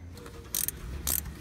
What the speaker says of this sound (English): I'm just gonna grab a ratcheting wrench and get this last one